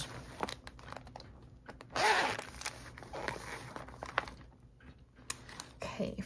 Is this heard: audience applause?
no